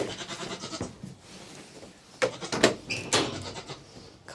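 A goat bleats a few times at close range while being led into a farm goat pen, the calls clustered in the second half over light rustling.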